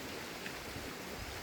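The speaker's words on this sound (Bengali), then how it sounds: "বৃষ্টি আছে" Rain falls steadily outdoors where pigeons are kept, a constant soft hiss with no distinct drops or voices.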